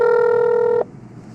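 A steady electronic telephone ringback tone heard while calling a disease-control call center, loud and continuous, then cutting off abruptly partway through.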